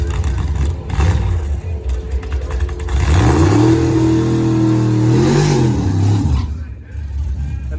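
A race car engine revs up loudly nearby, rising and holding at high pitch before easing off, over a busy crowd-like background at a car event's run session.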